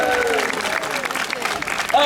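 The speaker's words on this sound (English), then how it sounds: "you get a massive round of applause" Festival crowd at Sidmouth Folk Week applauds a volunteer, a steady wash of clapping with cheering voices and whoops mixed in, loud and close throughout.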